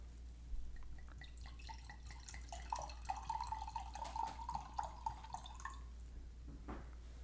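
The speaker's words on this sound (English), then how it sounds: "And now I'll do an ASMR pour." Wine poured into a glass makes a soft, close, continuous trickling and gurgling for a few seconds, then tapers off into quiet drips.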